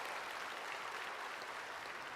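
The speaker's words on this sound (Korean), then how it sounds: "이럴 때는 박수 한번 해줘야 되는데" Church congregation applauding during a Korean sermon at Sae Eden Church, a steady, dense wash of clapping that holds evenly throughout at moderate level, with no voices.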